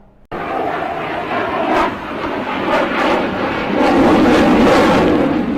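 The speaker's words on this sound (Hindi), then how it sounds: "वहीं दूसरे लड़ाकू विमानों ने भी आसमान में करतब दिखाकर वायुसेना की ताकत का इजहार किया।" Loud jet engines roar without pause and swell as aircraft sweep overhead, with no one talking.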